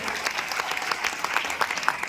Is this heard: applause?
yes